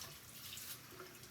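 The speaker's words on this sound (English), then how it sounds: "I rinse my brushes first" Makeup brushes being rinsed under a running faucet, a steady soft wash of flowing water splashing into a sink, continuous and close with no talking.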